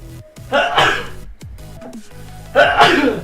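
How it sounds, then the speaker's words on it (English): Two loud, close sneezes separated by a pause, each with a sharp breathy burst and a short intake of breath before it. "I had those sneezes prepared though."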